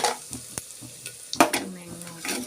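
Ground cardamom and clove powder hitting hot oil in a pan gives a soft, short sizzle with a few stirring scrapes and light clinks, fairly faint and close, with no talk.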